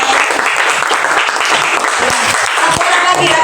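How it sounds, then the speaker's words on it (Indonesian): Audience applause for two people on stage at an Indonesian gathering, a dense, steady clapping that fills the whole stretch at full loudness, with some crowd voices mixed in. "tepuk tangan dong untuk Dinda dan Rizky."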